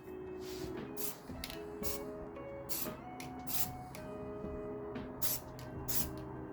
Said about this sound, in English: So I'm going to continue with the spray.